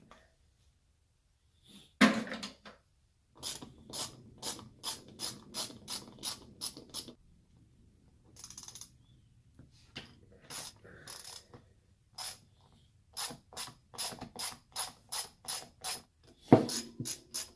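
Ratchet wrench loosening bolts on an HVAC gearbox, quick bursts of sharp close clicking in irregular runs with brief pauses and a couple of louder clanks between them.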